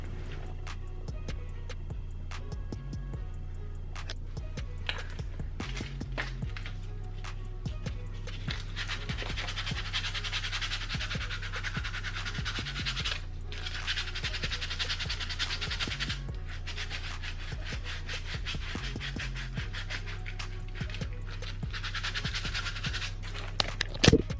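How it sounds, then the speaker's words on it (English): A pair of kids' Crocs slides is sanded by hand with steady, repeated scratchy strokes against the foam, close and moderately quiet over a low background hum for a long stretch. "so I sanded the shoes. See how they look nice and ashy."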